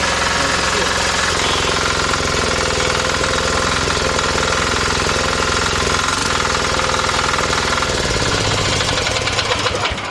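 A mini tiller engine used for weeding, ridging and ploughing maize fields runs steadily throughout, a loud, close, rattling, knocking drone with no breaks.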